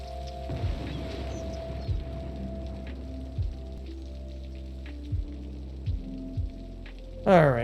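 Steady rain falling in a city-building video game, a soft continuous hiss over a low droning hum, punctuated by a few dull thumps and a brighter swell right at the end; no talking.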